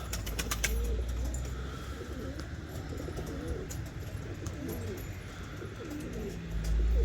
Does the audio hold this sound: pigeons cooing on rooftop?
yes